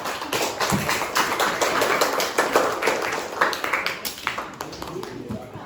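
Group applause in a classroom lesson, many hands clapping in a brisk, uneven patter that holds steady for several seconds.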